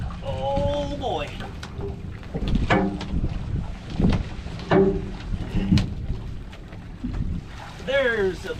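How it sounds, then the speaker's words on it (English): Gusty wind buffets a small boat out on a bay during a crab-fishing trip, a low rumbling roar against the microphone with bumps and knocks, while someone talks over it. "It's getting pretty windy out here."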